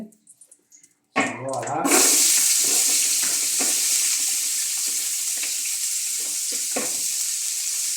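Chopped onions hit hot oil in a pan for home-cooked chicken mandi, a loud burst of sizzling that starts after a short pause and holds as a steady, close hiss with faint clinks and movement underneath.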